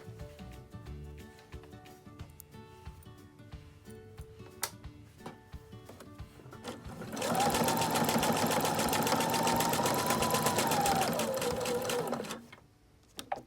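Domestic sewing machine running steadily for several seconds, stitching along a fabric lanyard, loud and close after quieter handling sounds, with no talk.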